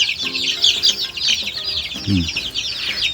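Meat chickens in a cheap homemade cage cluck and chatter continuously. Their busy, overlapping high calls are punctuated by a few deeper, louder clucks close by.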